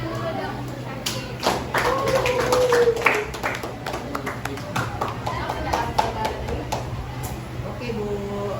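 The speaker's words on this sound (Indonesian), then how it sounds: "Beri tepuk tangan dulu dong untuk Syakir." Scattered, uneven clapping from a small group applauding a student in an Islamic religious studies class, with voices talking over the claps throughout.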